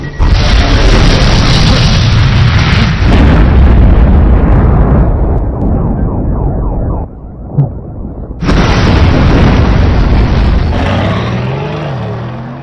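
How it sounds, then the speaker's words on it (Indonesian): A car explodes in a film, a loud, sustained explosive boom with rumbling roar, a brief dip, then another heavy blast surging back and fading out slowly. "mobil Sylvain pun meletup tepat di depan mata Matt"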